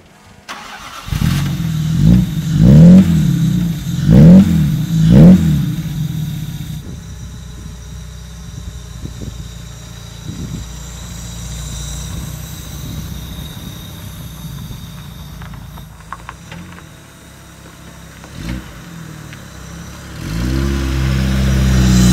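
A 1959 Jaguar SS 100 recreation roadster with a Jaguar engine starts and revs in several loud, rising bursts, then settles into a lumpy idle before pulling away with a growing engine note at the end.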